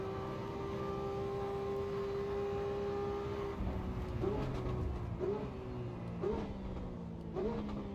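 Race car engine revving in the Assetto Corsa EVO sim racing game, a steady drone followed by a run of rising revs and sharp downshift blips, loud and close.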